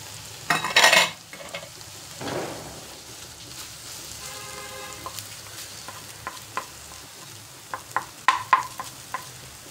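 Tomato masala sautéing in a pan, with soft sizzling broken by a few loud stirring scrapes and sharp clinks of a spoon against the metal, some close and some spaced apart.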